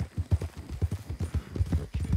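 Close, quick hoofbeats from a horse being ridden hard drum in a steady galloping rhythm, thudding low and loud throughout with no voices.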